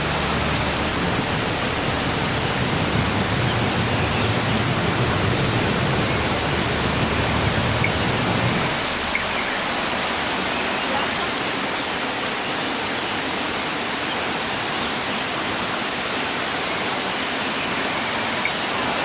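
Water pouring steadily from a natural waterfall beside an outdoor wild-cooking spot, a dense broadband rush that holds constant throughout, slightly fuller and deeper in the first half, with no talk.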